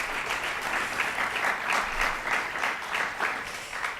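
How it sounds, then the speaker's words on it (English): Audience in a theater applauding event organizers, a steady round of clapping from a moderate crowd at a fairly distant, even level, with no voices over it. "Give them a little round of applause."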